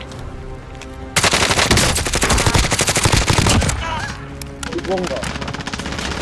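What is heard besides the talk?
gunfire in the video game Call of Duty Warzone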